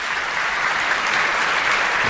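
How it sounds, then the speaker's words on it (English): Audience applause for the sponsors at the Miss Heilala 2026 pageant talent night, a steady, dense wash of many hands clapping filling the hall without pause. "So a round of applause for all our sponsors of the Heilala 2026."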